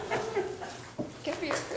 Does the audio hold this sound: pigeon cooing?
no